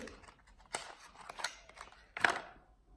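Anastasia Beverly Hills mascara packaging being opened by hand, a few sharp cutting or tearing rustles with one louder burst near the end, faint and close with no talk.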